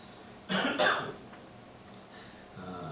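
Two quick, sharp coughs close together from a person with a cold, then quiet room tone with a faint throat noise afterward.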